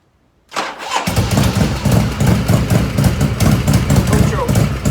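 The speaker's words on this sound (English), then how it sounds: "Not going to give it any choke because I think it's just going to start." A 1985 Harley-Davidson FXRS with an Evolution engine cranks and fires after a short silence, then settles into a loud, steady, loping idle close by.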